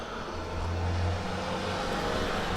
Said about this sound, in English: loud cars in front of the window